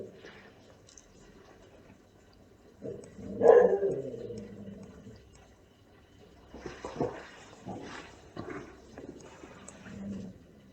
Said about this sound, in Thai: สุนัขเห่าคนเดินมาหน้าบ้าน เขาเดินผ่านหน้าบ้านแล้วมันเห่า